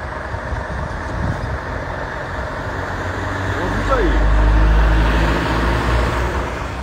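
A convoy of Scania trucks on a Brazilian road heading to the Fenatran 2024 show passes by, a broad engine and tyre rumble swelling to a peak then easing, with someone talking over it.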